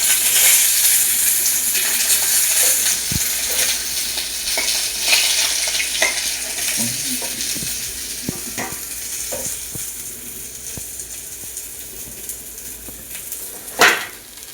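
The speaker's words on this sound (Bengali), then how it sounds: "মাছটা ভেজে নেব ভালো করে" Pieces of rohu fish frying in hot oil, producing a steady close sizzle with scattered spatter pops and utensil taps, fading slightly toward the end with one sharp clink.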